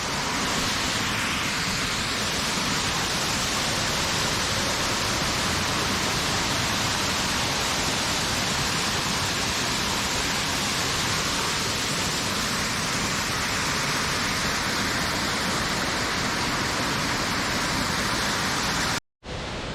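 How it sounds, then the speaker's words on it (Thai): Krating Waterfall in Chanthaburi, a thirteen-tier falls, roars steadily from very close beside a large rock ledge, a dense unbroken rush of water that fills the whole clip and cuts out abruptly just before the end. "ใกล้ชิดน้ำตกนะครับผม"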